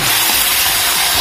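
Fried tempe tossed into a thickened sauce in a hot pan gives a steady, loud, hissing sizzle with no pauses or voices.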